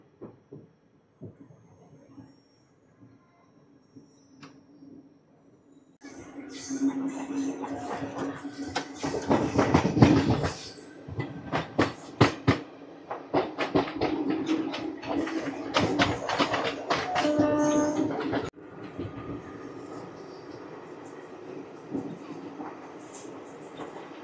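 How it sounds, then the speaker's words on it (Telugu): Tirupati-Puri Express train pulling out of Srikakulam Road station, quiet at first, then loud rhythmic wheel clatter and rattling carriages building up and continuing steadily, heard from inside the train. "శ్రీకాకుళం రోడ్ రైల్వే స్టేషన్ నుంచి అయితే మా ట్రైన్ అయితే స్టార్ట్ అయిపోయింది"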